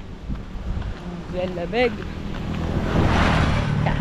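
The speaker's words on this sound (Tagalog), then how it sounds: "Lakas ang hangin." Strong wind roars across an open outdoor spot near the water, a broad steady rush that builds louder toward the end, with a short spoken word and a voice over it early on.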